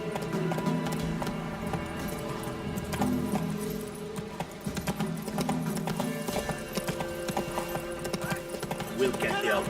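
Hooves of the horse Roach in The Witcher 3 clip-clop in a steady galloping rhythm throughout, close and prominent over game music and ambience, with brief spoken lines from characters.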